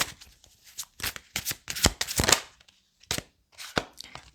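Tarot cards are shuffled and drawn by hand in a quiet room, giving a series of close, crisp riffling bursts and soft slaps separated by short pauses.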